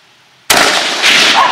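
A .223 Savage Model 10 rifle shot strikes a powder-filled target 200 yards out, giving one sudden loud crack after half a second of near-silence, followed by a sustained rumbling boom from the distant detonation.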